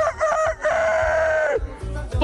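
A person imitates a rooster's crow with the voice, giving one long, loud, drawn-out call that falls off at the end, followed by a few short vocal bursts.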